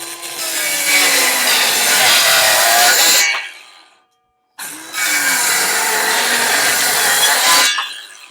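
Two clamped wooden deck boards cut together with a saw during a DIY deck roof build: two long, loud, continuous rasping cuts, each about three seconds, separated by a brief silent pause.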